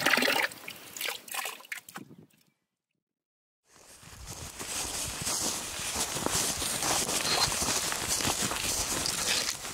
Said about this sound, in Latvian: Jo tekoša skaņa nozīmē tekošs ūdens un tīrs ūdens